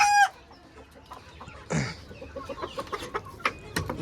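Desi chickens cluck in a farm coop, with a few sharp calls and a crowing burst standing out over quieter scattered clucks and no talk.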